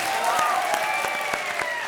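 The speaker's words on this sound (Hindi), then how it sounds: "जोरदार तालियां" Comedy show studio audience bursts into applause and cheering, a dense wash of clapping with a few sharp claps standing out, loud and steady for the whole moment, with whoops and voices mixed into the crowd noise.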